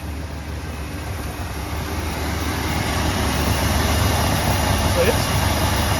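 A 1968 Mercury Marquis with a 390-4V V8 and a slight miss runs steadily nearby, a continuous low rumble that grows slightly louder over the clip.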